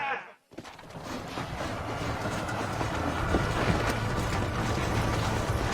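A moving train rumbles and clatters continuously at close range after a brief silent gap, with a steady rhythmic rail noise and metallic rattling; voices are faintly present underneath.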